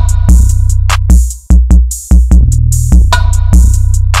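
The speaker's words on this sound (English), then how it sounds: "The 808 plays this pattern." 808 bass pattern, deep booming sub-bass notes in a repeating syncopated rhythm, loud and upfront with short gaps between hits and a few sliding sustained tones.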